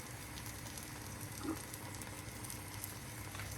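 Butter sizzling on a hot griddle beside an egg and cheese chapati, a steady soft crackle and hiss running evenly throughout, close and fairly quiet.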